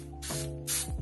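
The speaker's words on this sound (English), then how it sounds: "I love spraying it in my room. I'm gonna spray it right now." A champagne toast scented room spray is pumped twice indoors, two short, close hissing bursts separated by a brief pause, with no talking.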